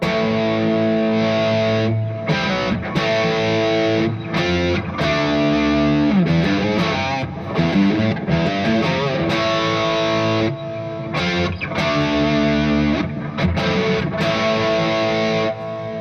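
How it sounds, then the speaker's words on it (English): An electric guitar plays through a master-volume amp with its gain up and master raised, giving thick preamp distortion. Sustained chords and riffs ring loud and continuous with short gaps between phrases, and no talking. "then you bring the master volume up, and you get preamp distortion"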